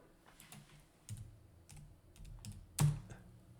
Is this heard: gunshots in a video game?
no